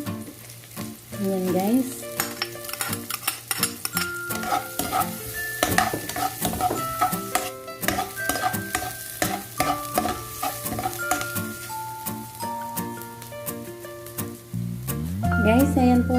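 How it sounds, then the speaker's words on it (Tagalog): Garlic and onion sizzle and crackle in a pan while being stir-fried for a beef dish, with scraping stirs throughout, tonal background music, and a brief spoken remark. "Guys, ngayon po ay ilagay na natin yung bawang."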